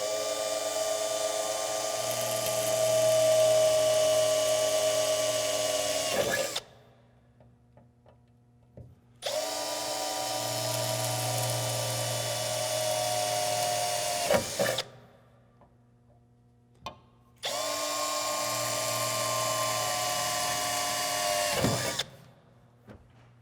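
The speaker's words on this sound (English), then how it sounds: "With my 1/8" drill bit, I am now going to drill my 4 pilot holes." A power drill with a 1/8-inch bit whines in three long bursts of several seconds each, drilling pilot holes for bed channel supports on a Toyota Tacoma, separated by short quiet pauses, steady and close.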